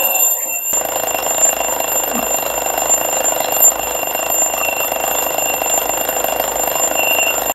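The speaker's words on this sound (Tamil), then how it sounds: "இப்போ நான் வந்து அலாரம் எந்த டைம்ல செட் பண்ணோ அந்த டைம்ல வந்து பாத்தீங்கன்னா அடிக்கும்" A twin bell vintage alarm clock rings continuously and loudly, its bright metallic clatter sustained without pause after a brief quiet start.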